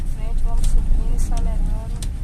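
A car climbs a hill in the rain and pulls away from a traffic light, its engine note rising steadily under constant rain and road hiss, while someone talks over it.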